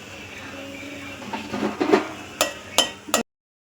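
Sambar of vegetables with mango being stirred after chili powder and sambar powder go in, a few scraping spoon strokes against the pot building to three sharp close clinks near the end, with a faint simmer underneath.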